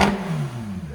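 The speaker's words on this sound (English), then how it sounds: "Rev it like that." A 2019 Porsche 911 GT3 RS with its muffler deleted revs loudly up close, a sharp initial bark settling into a harsh, droning exhaust note that slowly falls in pitch.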